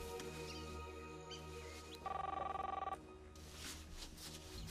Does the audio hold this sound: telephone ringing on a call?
yes